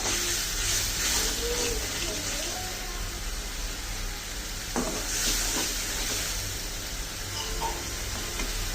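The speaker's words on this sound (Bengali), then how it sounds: "তো একটু কষানো হোক মশলাটা।" Spice masala for a fish curry with new potatoes and broad beans sautéing in a pan, a continuous soft sizzle and hiss with faint scraping stirs, moderately quiet throughout.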